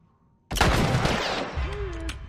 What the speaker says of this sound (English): That guy has a machine gun or something, of some sort.